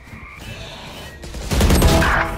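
Gunfire erupts in a multiplayer shooter game, a loud burst starting abruptly partway through and continuing to the end over a steady background.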